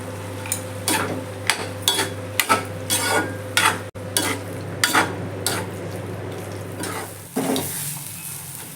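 Potatoes are stirred into onions and coriander frying in a pan. A steady sizzle runs underneath while a utensil scrapes and taps the pan in a regular rhythm.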